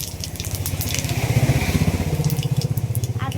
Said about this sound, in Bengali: তেলটা গরম হয়ে গেছে, ফোড়নে দিয়ে দিচ্ছি 5 ফোড়ন।